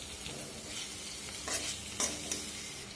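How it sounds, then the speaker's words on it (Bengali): Boiled eggs and potatoes stirred with biryani masala in a pan for Vizag-style egg biryani: a steady frying hiss broken by a few sharp spatula scrapes near the end. "বিরিয়ানি মশলার সাথে আর একবার ডিমগুলো আর আলুগুলোটাকে নেড়ে নেব"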